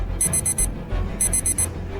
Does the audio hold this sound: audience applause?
no